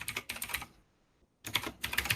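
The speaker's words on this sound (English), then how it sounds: "you will start typing in your information" Rapid clatter of keys on a computer keyboard as information is typed in, two close bursts of quick tapping separated by a pause of near silence.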